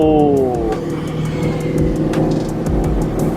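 A Toyota GT86 fitted with an aftermarket exhaust starts up, its engine catching and settling into a loud, deep idle close by.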